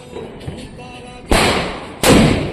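Diwali firecrackers go off nearby, two loud sharp bangs with hissing tails following a quieter stretch of faint voices and small taps.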